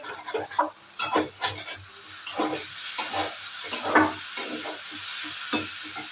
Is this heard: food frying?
yes